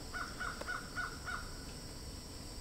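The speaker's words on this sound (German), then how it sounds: "der Vogel kräht ihm vielleicht jetzt hier ein bisschen Aufmerksamkeit zu." A bird crows in the tabletop game Guild Ball, giving five short, evenly spaced caws that sound moderately close over a steady background hum.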